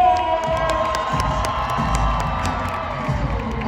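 A loud crowd cheers and whoops at an HBCU battle of the bands. The roar runs steady and dense for the whole stretch, with scattered shouts rising above it.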